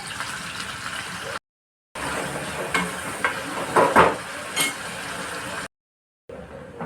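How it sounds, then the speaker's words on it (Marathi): Chopped onion frying in oil in a kadhai on a gas stove, a steady hiss and crackle with a few louder bubbling bursts, broken by short silent gaps. "आता मी कढईत तेल टाकते। चिरलेला कांदा टाकते।"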